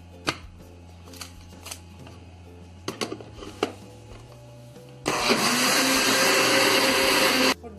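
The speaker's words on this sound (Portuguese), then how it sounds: "E agora nós vamos bater." After a few clicks and knocks, a blender whirs loudly for about two and a half seconds, mixing instant coffee pudding ingredients with chocolate powder, then stops abruptly.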